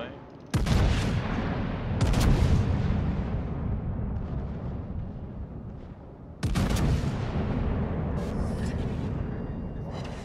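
Heavy battleship guns firing in a naval video game, two huge booming blasts several seconds apart, each followed by a long rumbling roar, with faint talk in the background.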